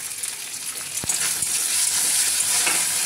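Tomato dropped into a curry of cauliflower, potato and soya chunks frying in a pan, a steady close sizzle with a couple of sharp clinks from a spoon or utensil against the pan; no one talks.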